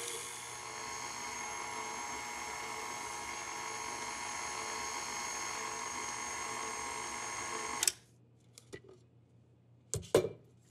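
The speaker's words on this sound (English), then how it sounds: "I'll add this all at once and just mix it until it's blended" An electric mixer blends Linzer cookie dough after baking powder and salt go in, whirring with a steady high motor whine for several seconds before cutting off, followed by a few light clinks and knocks.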